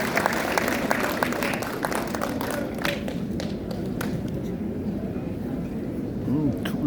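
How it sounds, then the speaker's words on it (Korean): An audience applauds two youth representatives taking the stage at a launch ceremony at the Gwangju Kim Dae-jung Center. The clapping stays steady and dense throughout, with voices talking over it. "여러분 큰 원님의 박수를 부탁드리겠습니다"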